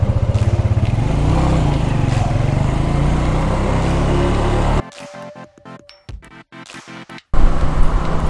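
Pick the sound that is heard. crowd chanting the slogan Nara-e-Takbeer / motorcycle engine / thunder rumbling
motorcycle engine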